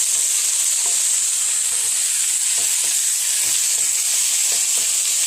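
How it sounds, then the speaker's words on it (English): Hash browns sizzle steadily in a hot pan for breakfast burritos, a constant loud hiss with faint scraping as they are stirred, no voices. "give those hash browns a stir"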